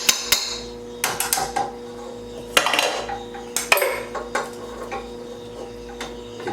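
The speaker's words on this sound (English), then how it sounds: "We'll need a little spatula to get this all out." A small spatula scrapes and knocks against a metal mixer bowl, working out coconut oil for white biscotti dough: sharp, irregular clanks and scrapes in close bursts, with quiet gaps between.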